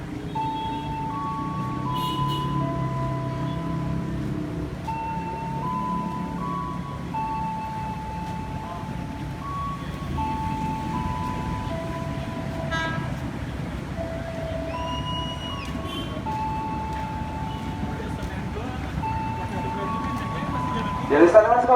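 A JR East 205 series commuter train pulls into Tebet station as its motors whine through a series of stepped tones, over a steady rolling rumble, while a station announcement in Indonesian plays and a short squeal comes near the end.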